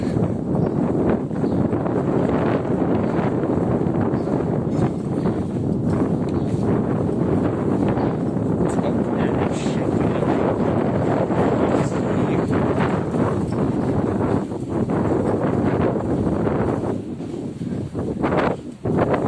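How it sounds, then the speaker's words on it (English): Wind buffets a microphone outdoors on a shopping street in Benidorm, making a loud, steady, low rumble throughout that eases slightly near the end. "the wind blowing your ears out"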